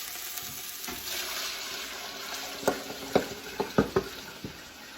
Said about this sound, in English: Now we're going to deglaze it with some water.